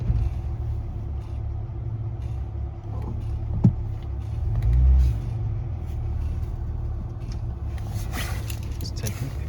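A Jaguar XJ6 engine idles steadily at around 1,000 rpm with the choke engaged, giving a continuous low rumble with a faint thump midway and no talking.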